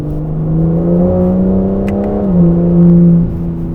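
A 2025 Aston Martin Vanquish V12 engine revs steadily, its pitch climbing and dipping slightly before settling back, loud and close with no voices.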